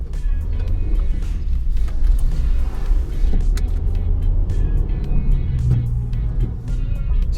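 A car cruising on morning roads, picked up by a camera on a suction cup mount: a loud, steady rumble of engine and road noise with slight swells, continuous throughout and with no voices.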